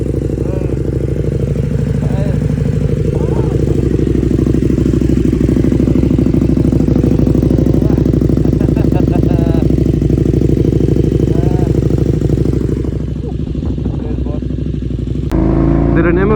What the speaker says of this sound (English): Man, this fucking bike is so smooth!